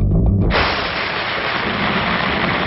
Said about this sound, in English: A tropical storm suddenly erupts over Kuala Lumpur.